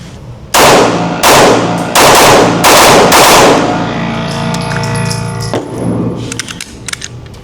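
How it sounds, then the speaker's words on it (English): Stock Glock 43x pistol fired in a string of about five loud, sharp shots over roughly three seconds, each ending in a long ringing echo, with scattered fainter reports and clinks trailing off afterward. "All right, so first shots with the stock Glock 43x."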